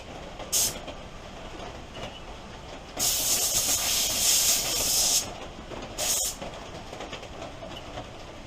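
Compressed air blown in bursts while cleaning parts of a Polaris Xplorer 300cc engine during a rebuild: a short puff, a sustained two-second hissing blast, then another brief puff, loud and close with no talking.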